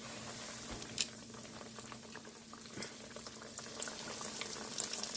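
Sweet potato pies fry in hot oil with a soft, continuous bubbling sizzle and a few light pops, fairly faint and steady throughout.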